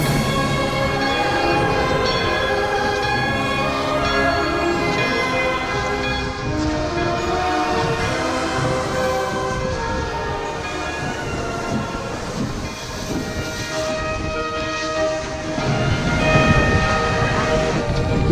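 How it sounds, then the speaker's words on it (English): Polar Express excursion train rolling past at close range, wheels and cars rumbling loudly and steadily for the whole stretch while its horn-like whistle sounds in long sustained tones over the noise. "after the whistle blew, everybody got back onto the train"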